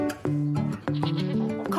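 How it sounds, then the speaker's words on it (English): Saanen goats, a high-milk dairy breed, bleat at an agricultural show in Yorkshire, with several loud, close wavering calls following one another quickly and no talk over them. "Colin and Paul specialise in raising Saanen goats, a breed known for high milk production"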